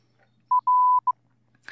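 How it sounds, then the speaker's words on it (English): Three electronic beeps illustrating PWM signal pulses for RC protocols: a short tone, a longer tone, then another short tone, all at the same clean pitch in near silence, with a faint click at the end. "if you listen to these three beeps,"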